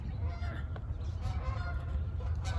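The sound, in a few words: geese honking overhead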